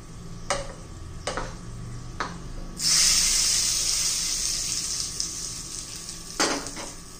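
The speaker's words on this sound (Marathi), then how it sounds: "आता तडका देऊया." Spices tempering in hot oil for Andhra-style tomato chutney, a bright sizzle bursting in at about three seconds and holding steadily, with a few clinks of a spoon against the pan before and after; no voices.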